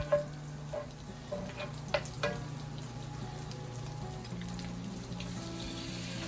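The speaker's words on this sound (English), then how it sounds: "Add a little bit of butter. Once the butter starts to melt, you already know the pan is nice and hot." Butter melts in a hot pan with a soft, steady sizzle, joined by faint clinks and light handling noises at close range, without voices.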